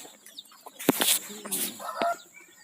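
Five-day-old chicks in a poultry shed, with scattered bird cheeps and clucks plus a couple of louder flutters or bumps, fairly close in a quiet space.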